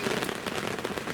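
Heavy rain pours down on a flooded carp-fishing swswim, making a brief, dense crackling patter that spreads evenly across the moment.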